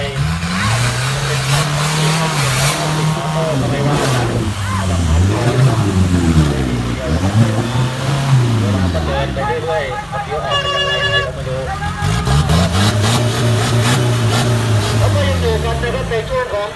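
Several 4x4 off-road vehicles race in a competition, their engines revving hard and rising and falling in pitch, loud and continuous, with a commentator talking over them throughout.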